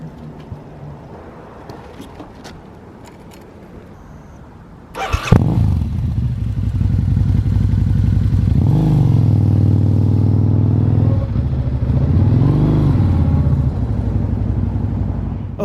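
A cruiser motorcycle starts up after a quiet moment, then idles loudly and close with a steady rumble, revving twice with rising and falling pitch as it gets ready to ride off.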